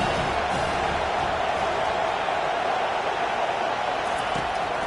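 A stadium crowd roars in a football video game during a big third down, a steady, wide wash of cheering noise that holds constant throughout.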